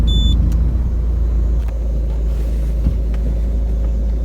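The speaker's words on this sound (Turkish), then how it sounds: "Hiç gaza basmadan araba kendi kalktı." A manual-transmission car pulls away uphill on idle without any throttle, giving a loud, close, steady low engine rumble with slight vibration and no talking.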